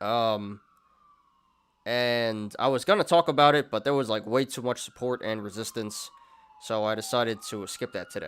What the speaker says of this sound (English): My apologies about the siren, guys.